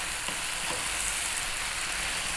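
Spicy chicken fried rice made with cold cooked basmati rice, stir-fried over high heat, giving a loud, continuous dense sizzle and hiss with faint stirring, no voices.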